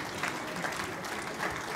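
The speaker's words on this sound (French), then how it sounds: "on peut les applaudir" Audience applause at a Tunisian business conference panel session, a steady, moderately faint patter of clapping from a seated crowd that swells slightly in spots and runs without talk.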